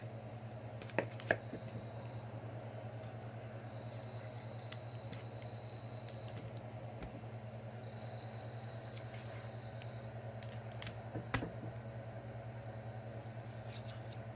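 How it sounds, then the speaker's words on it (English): A knife cuts buffalo fish ribs into pieces with a few faint, sharp slicing and crunching clicks spaced over a quiet background hum, with no talking heard during the cuts. "You take, cut it in a couple spots like so."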